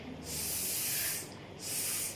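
A voice imitates a snake's hiss, producing two long, steady hisses of breath pushed out through the teeth, each lasting about a second, with a short gap between them and no other sound.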